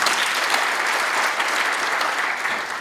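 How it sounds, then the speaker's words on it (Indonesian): A church congregation claps together in a loud, continuous wash of applause that stays level for the whole stretch without any pause. "Tepuk tangan dulu untuk Tuhan kita."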